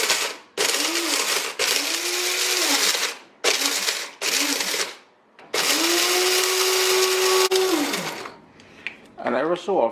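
Electric spice grinder whirs in five loud on-off pulses, the longest near the end, as whole spices are ground into Chinese five spice powder; brief rattles follow the last burst.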